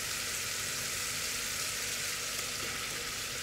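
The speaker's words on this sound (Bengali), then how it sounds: "টমেটো, কাঁচামরিচ ভালোভাবে কষিয়ে নিচ্ছি।" Chopped tomatoes and green chilies frying in a pan, a steady, even sizzle and crackle with no voices.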